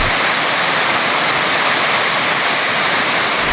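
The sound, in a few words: waterfall at Isang Falls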